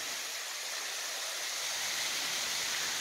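A constant rushing hiss of falling water, steady and broad, like Cheaha High Falls heard from a short distance among rocks, with no voices.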